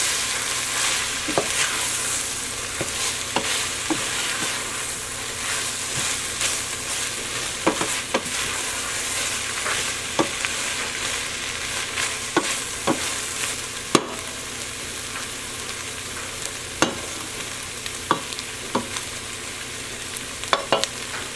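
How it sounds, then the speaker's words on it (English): Onions cook down in a pot for French onion soup, a continuous moderate sizzle broken by regular sharp clicks and scrapes of stirring that recur every second or two, with no voices. "You can see the onions are starting to reduce down as it cooks."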